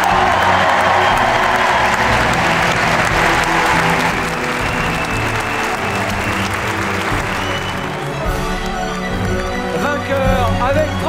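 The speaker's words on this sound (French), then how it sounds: "Merci d'applaudir Bill François." An audience at an eloquence contest in Aix-en-Provence gives sustained, dense applause that fills the hall, with some cheering and voices mixed in toward the end.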